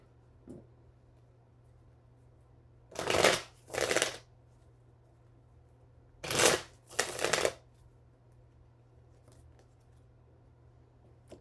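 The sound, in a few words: shuffling tarot cards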